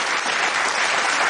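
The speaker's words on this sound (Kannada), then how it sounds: "ಜೋರದ ಚಪ್ಪಾಳೆ." Loud applause from a TV game show studio audience, a dense, sustained burst of clapping that fills the room evenly and steadily from start to finish.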